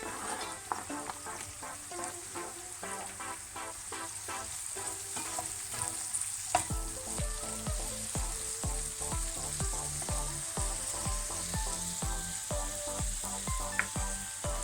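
Peppers and onions sizzle and fry in a pan with a constant crackling hiss, joined partway through by rhythmic scraping and stirring.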